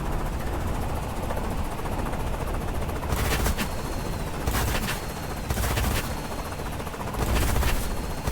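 Gunfire in an island capture aircraft battle game, with bursts of ground fire crackling over a steady engine drone, several short volleys coming in clusters at a moderate distance.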